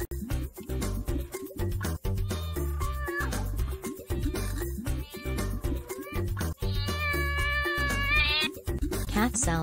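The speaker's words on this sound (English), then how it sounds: "Cat sounds meow." Cat meows, some drawn-out and wavering, repeat over the bouncy backing music of a children's sing-along song, fairly prominent above the accompaniment.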